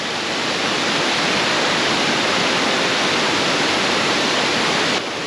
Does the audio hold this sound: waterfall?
yes